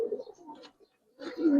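A pair of giribaz pigeons coos in a loft, with soft low calls near the start and a louder, rising coo toward the end after a brief quiet gap.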